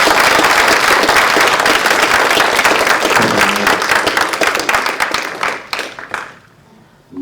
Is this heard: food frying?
no